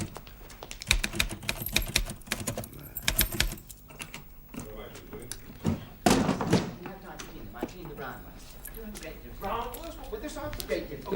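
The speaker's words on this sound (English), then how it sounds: "Isn't that Willie's typing?" A typewriter clacks in a series of sharp, uneven strokes with occasional heavier thumps, fairly close, as people talk over it.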